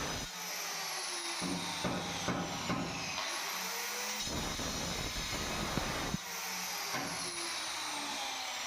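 Steel pipe being cut to a shorter length for a bathroom tile fitting job, a loud continuous grinding whine with sweeping tones and intermittent harsh bursts, close by and without speech.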